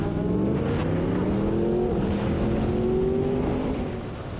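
A Yamaha R1M motorcycle rides loud and steady on a race track, its engine droning with rising and falling pitch as it accelerates, with no talk.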